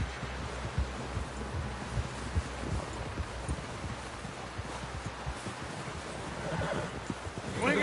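Horse neighing and hoofbeats from the Red Dead Redemption 2 video game, a steady textured rumble with shifting whinny tones rising toward the end, with no speech over it.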